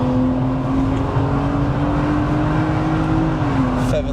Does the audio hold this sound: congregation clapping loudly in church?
no